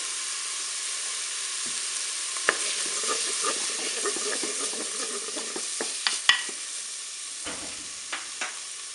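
Shallots browning in a Cookeo multicooker give a continuous sizzle, with scattered clicks and spatula taps against the pot and a few sharper knocks toward the end.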